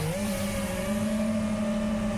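Electric motors of an FPV quadcopter drone on a 4S-style battery hum steadily in smooth forward flight outdoors on a slightly breezy day, a sustained close whine holding nearly constant pitch throughout, no talking.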